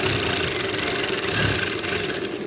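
A sewing machine stitches the sleeve of a bolero, giving a continuous, fairly close mechanical whirring and rapid rattle that holds steady throughout the short stretch.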